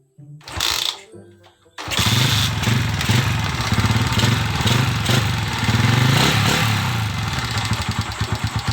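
A modified Honda Sonic 125 motorcycle engine with a custom exhaust and unadjusted valves starts with a short burst, then runs loud and close, revving repeatedly with a rough, rattling idle between.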